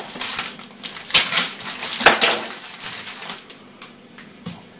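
Aluminium foil is torn and scrunched for roasting, giving crisp crackling crinkles in irregular bursts, close and fairly loud.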